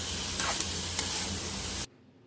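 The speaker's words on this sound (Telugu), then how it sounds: "మనం ఫ్రై చేసుకున్న చికెన్ పీసెస్ దీనిలో బాగా మిక్స్ చేయాలి" Fried chicken pieces sizzle loudly as they are tossed and mixed in a hot pan with salt, coriander and mint for chicken majestic, a steady broadband hiss with a couple of utensil scrapes, cutting off abruptly near the end.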